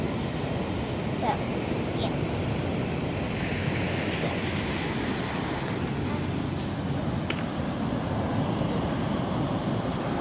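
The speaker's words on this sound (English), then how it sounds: "The waves begin, and it gets up and up" Ocean waves wash steadily onto a beach, a continuous dense roar of surf with wind buffeting the microphone, no distinct individual breaks.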